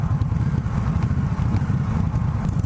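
A 2017 Indian Scout motorcycle runs steadily, its low engine rumble continuous and close up, mixed with wind and road noise, with no talking.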